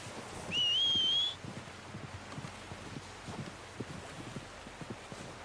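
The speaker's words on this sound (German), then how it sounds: "Ja, dann pfeif mal das Pferd her." A single sharp, rising human whistle calling a horse in Red Dead Redemption 2 sounds clearly for about a second, followed by faint wind and soft ambient clopping in an outdoor game scene.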